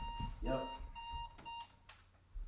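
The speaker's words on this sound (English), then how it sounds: "Sorry about that. That was my alarm clock." An alarm clock set for early morning beeps in steady high tones, with brief speech from someone nearby over the ringing.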